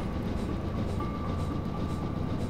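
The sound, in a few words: train running through tunnel with echo, Train Simulator 2014 video game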